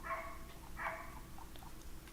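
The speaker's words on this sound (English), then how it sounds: "This goddamn dog is barking." A dog barks somewhere nearby in a few short bursts over a steady low hum, fairly faint and with no talking.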